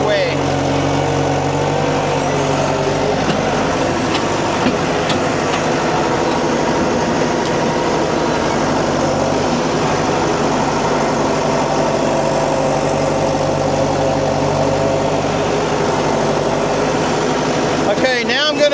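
A tractor engine drones steadily and loudly while driving over a corn silage pile, its heavy rumble continuous throughout, with a voice talking over it.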